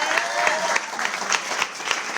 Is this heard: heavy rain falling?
no